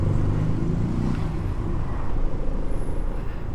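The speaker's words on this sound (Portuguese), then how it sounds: "Passou ali o carro da guarda municipal." A municipal guard car passes along a street in Barreiros, Pernambuco, Brazil, its engine and tyre noise swelling then fading amid steady traffic rumble.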